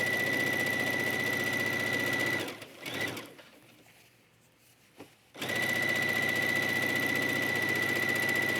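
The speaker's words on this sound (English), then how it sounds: "let's just stitch down one of the sides" Sewing machine stitching down the side of a yoga top, a fast steady mechanical whir with a high whine that stops for about three seconds in the middle, then resumes at full speed.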